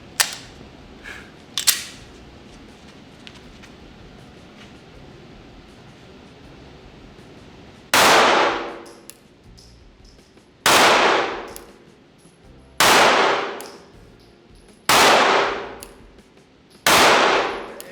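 Pistol shots from a Springfield Hellcat Pro Comp ring out on steel targets, five loud cracks spaced about two seconds apart, each followed by a bright lingering metallic clang, after a few fainter earlier shots and impacts.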